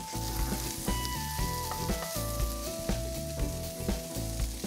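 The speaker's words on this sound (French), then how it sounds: "je viens couper quelques petites tomates comme ça et elles vont partir également dans la poêle" Small cut tomatoes seasoned with salt and pepper fry in a hot pan, giving a steady close sizzle with faint stirring and utensil clicks over a background of music.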